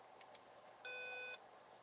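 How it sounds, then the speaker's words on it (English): A computer's internal PC speaker gives one short, flat electronic beep in a quiet room, close and clear against a faint background hum. "Likes to beep using the PC speaker."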